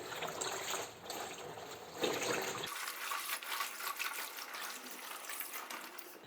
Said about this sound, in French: Et ensuite, on touille.